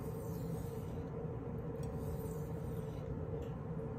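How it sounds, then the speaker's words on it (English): Low steady rumble of a clothes washer running in another room, faint and continuous beneath quiet surroundings, with no voices. "That noise you hear in the background is probably the clothes washer."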